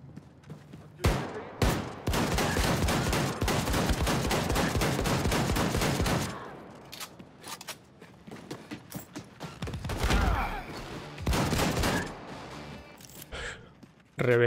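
Rifle gunfire in Wolfenstein 2, with a dense, loud run of rapid shots over the first several seconds, then scattered bangs and game noise, with someone talking at times.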